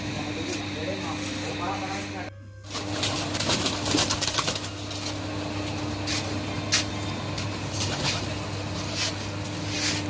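Soft pigeon coos blend into a steady background hum, with a brief dip in sound early on and rustling movement nearby.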